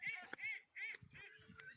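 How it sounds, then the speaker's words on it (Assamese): Local village ducks quack and honk in a run of loud, nasal calls close by, several overlapping bursts in quick succession with short gaps between them. "এইবিলাক হাঁহ ওলাই আহিছে দেখিছে।"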